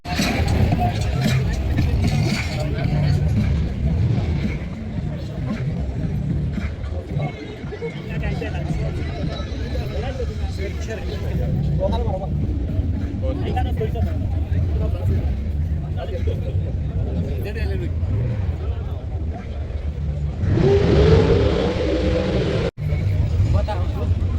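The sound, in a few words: busy road traffic, many cars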